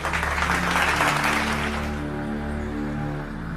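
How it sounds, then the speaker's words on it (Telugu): Applause at a college results announcement, a burst of many hands clapping loudly and densely at first, then fading into a lower room murmur. "big claps to Akash"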